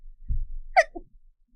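One short, close sneeze: a quick breathy intake, then a sharp burst and a small trailing exhale, in a quiet room.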